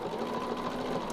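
A sewing machine stitching a quilted feather along a template, a close, steady mechanical whir that runs without pause for about a second, with no voice.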